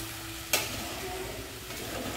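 Quiet sautéing of rice mixed with vegetables for veg pulao, a low steady sizzle under a single sharp scrape of a spoon against the pan.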